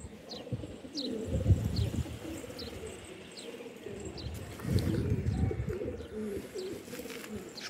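Pigeons coo softly in repeated low bursts at a loft, with a few faint higher chirps and light wing flutters in the background, quiet and fairly close.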